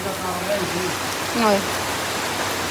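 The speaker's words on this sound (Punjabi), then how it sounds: "ਅੱਜ ਰੱਬ ਨੇ ਇੰਨਾ ਮੀਂਹ ਬੁਰੇ ਹਾਲ ਕਰਤਾ" Heavy rain pours down steadily as a dense, even hiss, during a downpour that has flooded a home and yard, with a brief whistling tone rising above it midway.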